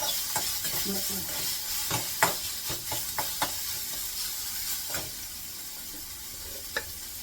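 Onion and tomato fry in a hot kadai, giving a steady close sizzle punctuated by repeated sharp scrapes and clacks of a spatula stirring the pan.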